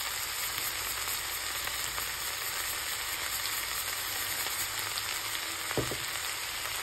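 Tomatoes with salt being stirred in a frying pan, a continuous close sizzle with soft scraping stir sounds and one clearer knock near the end, steady throughout with no talking.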